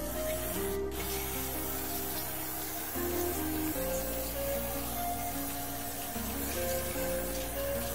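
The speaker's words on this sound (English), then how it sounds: "So what I am going to do is to just soak in this board with this spray." Isopropanol electronic cleaner sprays in a long, loud, steady hiss, soaking an Amiga 1200 circuit board up close, with music playing underneath.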